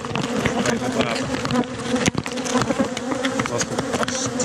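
Honeybees at an open beehive checked in July, producing a loud, dense, continuous buzzing hum close by, with no talk over it.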